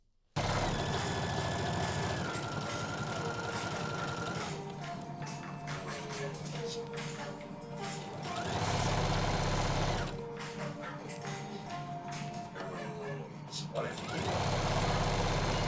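A sewing machine stitches over the side seams of a hoopskirt to reinforce them, running in loud, close bursts separated by quieter pauses, with music in the background.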